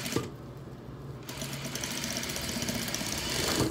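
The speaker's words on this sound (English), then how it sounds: "now I am sewing 3 layers of sequins" A sewing machine stitches through three layers of sequins, a close, steady mechanical whir and rapid needle chatter that picks up speed and loudness toward the end.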